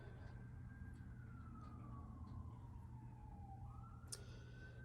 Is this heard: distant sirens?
yes